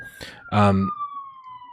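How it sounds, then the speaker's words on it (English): An emergency vehicle siren passes outside, a steady wailing tone drifting slowly lower in pitch, heard faintly in the background behind a speaker's voice indoors. "sorry, sirens on my end."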